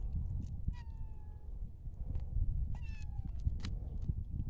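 A cat gives two short meows, one near the start and another a couple of seconds later, over a busy low outdoor background.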